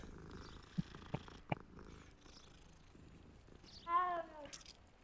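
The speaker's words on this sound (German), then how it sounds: "Das ist aber ein hässliches Maunzen." Cat in the video game Hogwarts Legacy gives one drawn-out, rising and falling meow near the end, preceded by a few sharp clicks and a soft background hum; no voice is heard.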